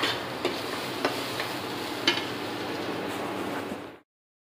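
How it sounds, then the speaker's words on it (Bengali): Potatoes frying in a home kitchen pan give a steady, close sizzle with a few soft clicks and stirring knocks, running without speech for about four seconds before cutting off abruptly. "এই সুযোগে একটু আলুটা ভেজে নিচ্ছি"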